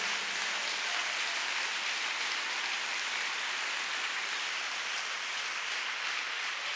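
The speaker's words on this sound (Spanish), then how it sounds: "Denle ese aplauso fuerte al Señor Jesús" A church congregation gives a loud round of applause to Jesus: a thick, unbroken wash of many hands clapping together, even and sustained throughout with no voices on top.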